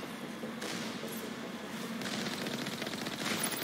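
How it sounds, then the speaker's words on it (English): A heavy Alliance turret fires in the Mass Effect video game, rapid bursts of mechanical gunfire that start and stop in two clusters over a low engine rumble, fairly quiet overall. "Alliance heavy turret."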